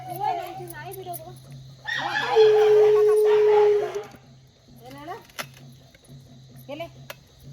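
A dog gives a sustained howl in the middle, with shorter yelps and bark-like calls before and after, against a steady low hum, with a festive home setting around it.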